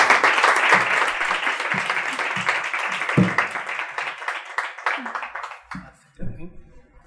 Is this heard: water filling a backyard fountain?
no